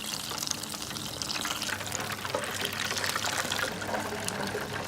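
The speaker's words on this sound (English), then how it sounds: "dip it in your batter that you have previously made, and then gently into your hot fat" A battered sandwich frying in hot fat in a deep fryer, a continuous dense sizzling hiss and bubbling, steady and close, with no talking.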